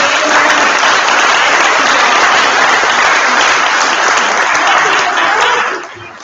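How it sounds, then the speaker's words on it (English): At a T4SD Forum afternoon session, the audience gives the panel sustained, dense applause that holds loud and even for about six seconds before trailing off. "If we could give a round of applause"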